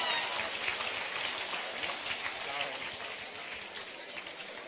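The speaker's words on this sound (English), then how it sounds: "how about a big round of applause for these two rising" Crowd applause at a boxing event, a dense, continuous patter of clapping at moderate distance, with voices audible alongside it.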